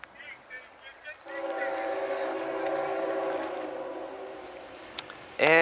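A northbound CSXT freight train approaches, its horn sounding in a long sustained blast that swells and holds for several seconds, with faint low rumble beneath and a sharp burst of noise at the very end.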